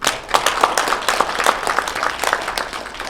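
An audience at a commemorative ceremony and book launch breaks into steady applause, a dense, moderately loud wash of many hands clapping without pause, heard close and alone with no talk.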